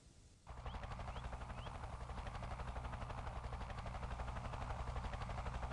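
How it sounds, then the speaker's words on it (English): Helicopter in the Delta Force 2 video game droning loud and steady after a short quiet start, its rotor thump pulsing continuously with busy, gunfire-like texture layered over the drone. "The helicopter will be coming over from this side."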